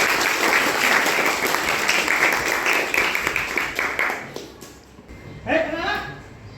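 Students in a classroom burst into loud, dense applause that carries on for several seconds, then fades out and gives way to a teacher's voice speaking.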